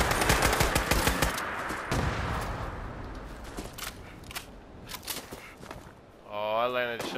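Rapid bursts of gunfire from the video game Fallout 76, with dense repeated shots, a quieter stretch of scattered single shots, then a loud mechanical whirring near the end, mixed with players talking.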